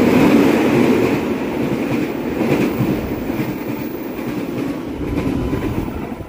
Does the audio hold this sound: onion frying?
no